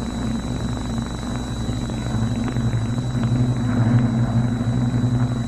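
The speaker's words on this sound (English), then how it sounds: "hope these planes don't disturb us" Drone of communist warplanes flying overhead in a 1952 radio drama set in Chungking, a steady low engine rumble that swells slightly while a voice starts to speak.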